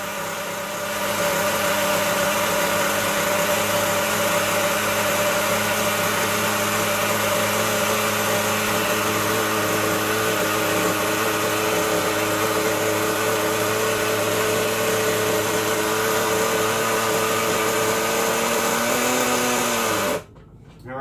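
A small high-pitched nitro engine on a Thunder Tiger 1:5 scale RC Ducati 999R motorcycle runs at a steady, buzzing rev for about twenty seconds, then abruptly cuts out.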